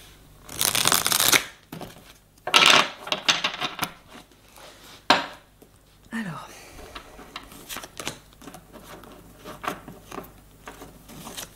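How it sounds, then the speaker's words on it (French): Tarot cards being shuffled and drawn make bursts of riffling and sliding card noise, close and moderately loud, with short pauses between. A person talks quietly between the bursts. "je vais tirer 3 cartes qui vont représenter la situation actuelle des personnes"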